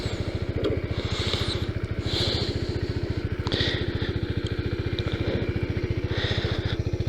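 A 2019 Kawasaki Z125 motorcycle with stock exhaust idles steadily in neutral nearby, a fast even putter that stays constant throughout with no revving.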